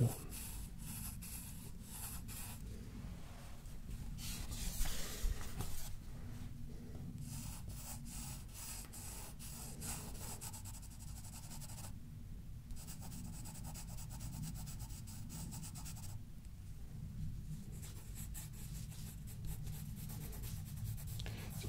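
Pencil sketching on paper for a portrait in a quiet ASMR setting, with soft, continuous scratching and rubbing strokes that pause briefly now and then, heard close and faint.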